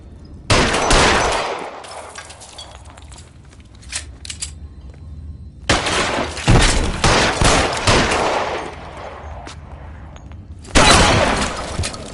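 Gunfire in the crime game L.A. Noire: loud close volleys of rapid shots in three separate bursts, with quieter gaps and scattered impacts between them.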